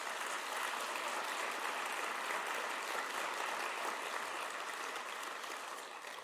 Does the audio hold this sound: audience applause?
yes